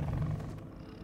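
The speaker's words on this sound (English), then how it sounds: "So Kraven has a pet tiger" A low, rumbling growl from a tiger in the video game Spider-Man 2 Rise of Venom, a single brief loud rumble that fades after half a second into quieter background.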